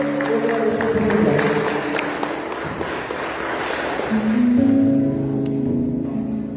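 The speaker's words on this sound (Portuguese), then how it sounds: "Quando você entender a palavra do Senhor, aplauda Ele bem forte." A church congregation at a Sunday service applauds, a moderate wash of clapping mixed with crowd noise and sustained organ-like tones underneath, fairly near and continuous.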